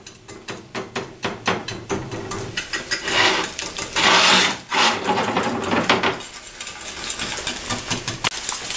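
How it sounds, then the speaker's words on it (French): A whisk beats six eggs with sugar in a bowl for a flan pâtissier, a rapid rhythmic clatter of wire against the bowl, close and fairly loud, with a few brief pauses and shifts in pace. "Donc on va les mélanger avec un fouet."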